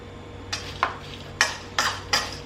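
A spoon scrapes and clinks against a bowl of corn salad being mixed, five short separate knocks spread over a couple of seconds, fairly quiet in a still kitchen.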